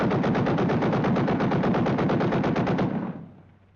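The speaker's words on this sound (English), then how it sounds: "gunnery practice." Machine gun fire during merchant marine gunnery practice, a loud, continuous rapid burst of evenly spaced shots lasting nearly three seconds before dying away into a fading echo.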